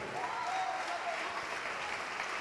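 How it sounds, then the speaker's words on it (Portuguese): Church congregation applauding during a service, a steady, full wash of clapping from many hands at moderate distance, with faint voices underneath. "vamos aplaudir mais, igreja."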